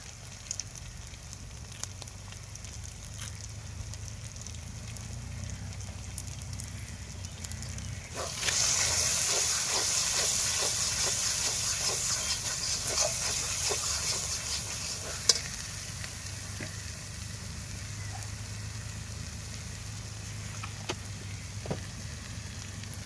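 Chicken with chili sizzles in a pan for chicken kosha. A low steady frying hiss swells louder partway through, with scattered clinks and scrapes from stirring.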